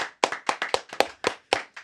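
Claps ring out for a rapper introduced on stage, a sparse, irregular burst of individual handclaps, fairly close and distinct rather than a dense roar, lasting under two seconds with no talking.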